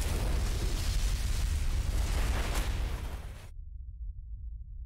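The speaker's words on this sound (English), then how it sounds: "Wow, that was a big explosion for kind of a little guy." A big explosion in a video game, a long loud roaring blast with dense rumbling that fills the first few seconds, then cuts off abruptly to a low lingering rumble.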